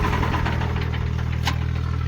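A tractor engine fitted with a modified silencer idles with a steady, close, low throbbing exhaust note and a brief sharper burst near the end, with no voices.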